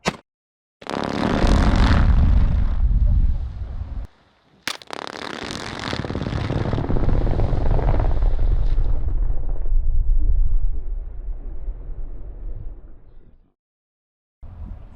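A rock-blasting charge detonates in bedrock at a rock crawl, a loud close roaring boom that rumbles for several seconds, then a second long rolling blast fades out slowly.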